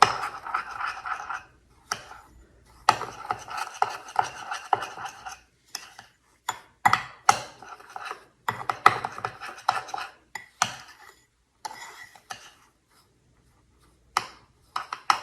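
Grapefruit sugar scrub being stirred in a bowl, with repeated scraping and clinking bursts of a utensil against the bowl, close and fairly loud, separated by short pauses.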